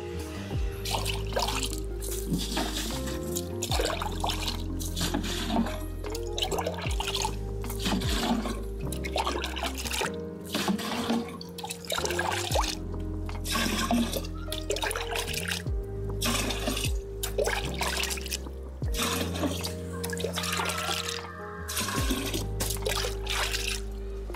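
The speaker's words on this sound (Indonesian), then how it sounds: "ini baru kita siramkan ke tumpukan tanah tadi yang sudah kita aduk, ya, secara merata" Water is poured from a bucket over a heap of mixed garden soil, a continuous splashing trickle over a steady tonal background that carries on throughout.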